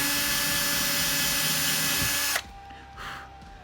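A power drill bores into the 6 mm deep fretboard of a homemade bass guitar between two frets, a loud steady whine that stops abruptly, followed by faint workshop noise.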